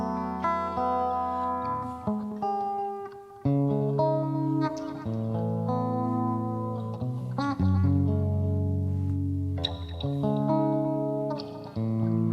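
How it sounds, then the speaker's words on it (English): Electric guitar through TH3 by Overloud amp sim software with chorus phaser, digital delay, compressor and plate reverb, chords and melodic lines shimmering, repeating delay echoes and a wide reverb tail, steady and loud throughout. "Chorus phaser, a digital delay, a little compressor, and a plate reverb."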